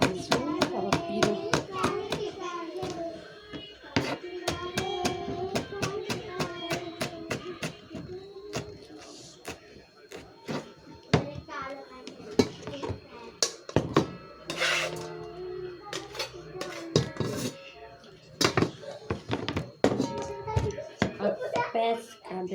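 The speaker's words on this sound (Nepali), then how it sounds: "खुर्सानी काट्दैछु।" Green chilies chopped with a knife on a board, producing rapid, sharp, uneven taps in quick bursts with short pauses, while a voice talks intermittently over the cutting.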